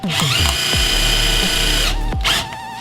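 A power drill whirs loudly in steady bursts, its motor pitch rising and falling as it drives screws, with brief pauses between runs.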